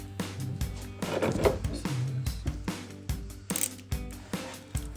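A bolt on a rear wing spoiler of a 2016-2024 Camaro is tightened with a ratchet, giving a run of close, quick clicking ratchet strokes with short pauses between bursts, no talk.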